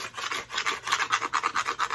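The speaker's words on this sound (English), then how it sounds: "the plaster is pretty soft, so I can just scratch the heck out of it" A sharp edge scratches into soft Venetian plaster laid on a board, a close, rough rasping in quick back-and-forth strokes that repeat steadily.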